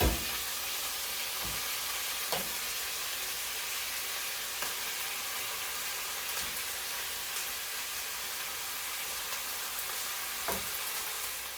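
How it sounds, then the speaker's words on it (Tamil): Boiled jackfruit seed sundal frying in an uncovered pan, a steady close hiss of sizzling oil broken by a few occasional faint stirring scrapes. "இப்போ நான் சட்டியை மூடாமலேயே இதை வறுத்தெடுக்க போகிறேன்."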